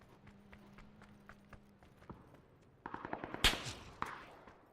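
Sniper gunfire in PUBG: sharp, loud gunshots in a quick cluster near the end, preceded by faint rhythmic footstep-like clicks and a low hum.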